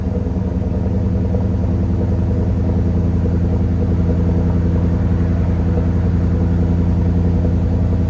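A 2020s Ford F-250 with the 7.3L Godzilla V8 and Borla exhaust idles with a deep, even rumble, steady and close throughout with no voices.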